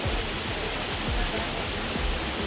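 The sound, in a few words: waterfall in the forest near Sakleshpur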